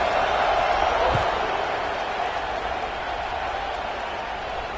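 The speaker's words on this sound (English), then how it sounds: "They're set to kick it off, and this crowd now ready to get behind them." A stadium crowd at kickoff in College Football 26, a broad, steady roar of cheering that fades slightly over a few seconds, with a single dull thump near the start.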